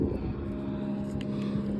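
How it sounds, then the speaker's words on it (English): A jet ski passes on a lake as a steady, fairly near engine drone with a low tonal hum, holding constant throughout amid wind buffeting the microphone. "There goes the old jet skier."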